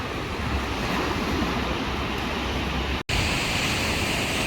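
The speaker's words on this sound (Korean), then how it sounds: "비도 오고 파도도 높습니다." High sea waves crash at Haeundae beach in the rain, a loud, continuous roar of surf and falling water with a brief dropout partway through.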